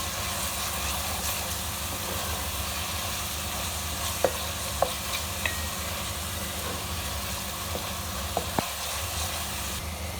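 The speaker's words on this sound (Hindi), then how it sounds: "और अच्छी तरह से इसे भूनेंगे।" Browned onions fry with ginger garlic paste for a fish curry, making a continuous gentle sizzle and hiss with occasional spoon clicks from stirring, close and fairly quiet, with no talk.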